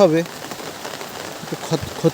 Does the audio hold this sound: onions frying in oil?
no